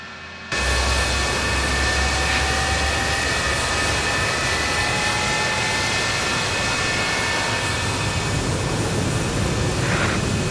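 An F-4 Phantom jet engine lighting up and spooling, a sudden loud onset followed by a sustained roaring rush with a steady high whine, close and dense throughout.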